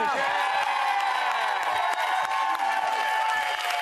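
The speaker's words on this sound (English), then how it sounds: "So give them a round of applause." Studio audience at a Big Brother UK spin-off show erupts in sustained applause, cheers and whoops for a comedian and impressionist, loud and continuous throughout with no pauses.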